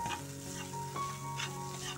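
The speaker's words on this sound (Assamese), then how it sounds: "একেবাৰে মিডিয়াম বা লো ফ্লেমত অকমান সময় ভাজিম" Curdled milk fries in a small amount of refined oil in a frying pan over a medium to low flame. A steady, close sizzle runs throughout, broken by the scrape of stirring.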